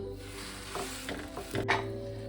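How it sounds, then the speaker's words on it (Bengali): Paneer sandwich frying in a pan, flipped to cook both sides, with a steady soft sizzle, a few scraping stirs and a brief clatter near the end, close and fairly quiet. "দুপিঠে এইভাবে উল্টে ভালো করে আমি এটাকে ভেজে নেব।"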